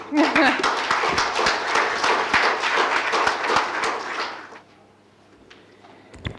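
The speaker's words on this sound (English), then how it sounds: "Let's give her another round of applause." An audience at a child nutrition forum plenary session in Cotonou applauds loudly with dense, steady clapping for about four seconds, then it fades out into near silence.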